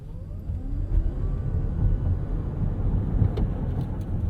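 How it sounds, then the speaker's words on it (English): A 2022 Toyota Mirai hydrogen fuel cell car pulls away from a light in sport mode, giving a low steady road rumble with a faint rising electric whine, heard from inside the cabin. "Let's go ahead and take off in sport from this light and see what this car feels like off the line."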